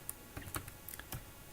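Several quick, light keystrokes tap on a computer keyboard, close and faint, with a few irregular clicks over a quiet background.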